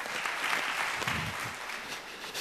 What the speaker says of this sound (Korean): 함께 감사와 영광의 박수 올려드리겠습니다.